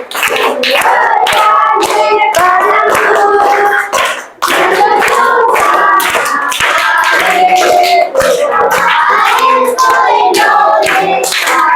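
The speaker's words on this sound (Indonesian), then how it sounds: "tepuk tangan untuk kita semua" A class of students and their teacher clap hands together in a classroom after singing, a loud, close, rhythmic run of clapping with sharp individual claps and voices mixed in, briefly pausing midway.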